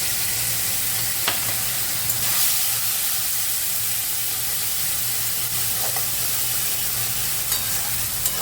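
Ginger and chili paste sizzle in a hot pan for lentil dal, a steady frying hiss with occasional stirring clicks, close and continuous with no talking.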